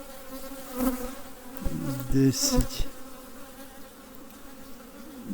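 Honeybees buzzing close by in short bursts, the hum swelling and fading, with someone speaking briefly over it.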